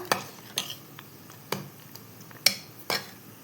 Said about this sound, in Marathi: पकोड्यांनी कढीला मिक्स करून घेऊया